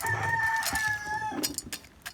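A chicken clucks and calls up close, a drawn-out cackling cry followed by a few short clucks and shuffling noises.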